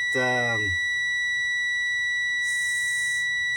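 In a Class B truck during an air brakes test, a steady high-pitched low air pressure warning alarm tone sounds continuously, with a brief low mechanical groan at the start and a hiss partway through.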